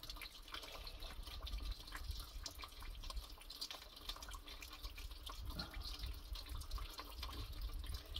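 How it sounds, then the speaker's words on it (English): Petrol pours steadily from a tipped tank into a bowl on the floor, a faint continuous trickling and splashing of liquid with no talk. "And I've got a bowl on the floor which I'm tipping it into."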